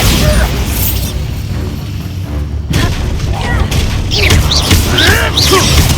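Bombarda spell explosion in Hogwarts Legacy, a loud booming blast with crashing debris, layered with combat noise and dense game sound throughout.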